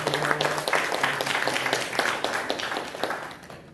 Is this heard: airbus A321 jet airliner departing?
no